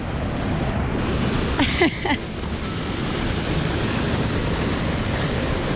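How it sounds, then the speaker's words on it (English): A small waterfall on a stream in Winfield, New Jersey, at low water, gives a steady broadband rush, loud and constant, with a brief knock partway through. "we just arrived at the Niagara Falls of Winfield, New Jersey."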